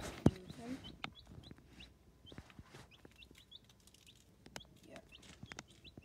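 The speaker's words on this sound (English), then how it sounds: "We have all these other chicks." Baby chicks peep in repeated high, thin chirps, fairly faint, among handling knocks and bumps, with people talking at times.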